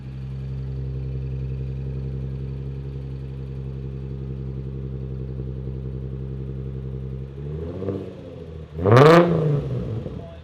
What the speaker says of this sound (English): There's that titanium. It's got a grumble to it.